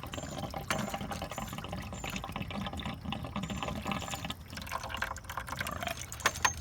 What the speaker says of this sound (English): And it's going to drain the remaining water out of there.